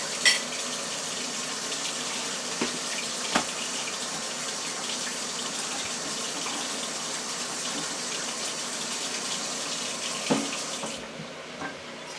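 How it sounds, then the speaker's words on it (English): Water runs steadily from a kitchen tap into a container while a cornstarch slurry is mixed for a pineapple-juice sauce, a continuous close gush with a few light clinks, stopping abruptly near the end. "Okay, I added 1/4 cup of water."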